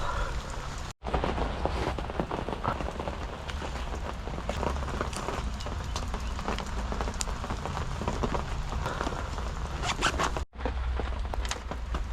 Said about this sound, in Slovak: normálne prší stále, ale malo by sa to ukludniť